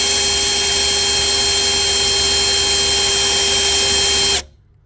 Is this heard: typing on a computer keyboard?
no